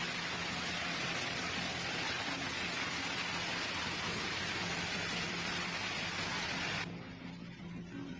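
Heavy rain pours down during a thunderstorm with strong winds in La Pampa, Argentina, a dense, steady hiss filling the scene before cutting off abruptly near the end.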